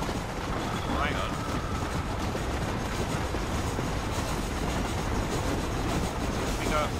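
A train rumbles steadily along the tracks in the Red Dead Redemption western game, a continuous rolling clatter at moderate distance, with faint voices and game sounds over it.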